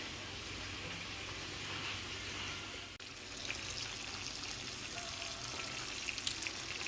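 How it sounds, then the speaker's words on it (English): Oil sizzles and crackles steadily as chicken back fries, a constant hiss with scattered pops and a brief knock partway through. "another set of the chicken back is frying"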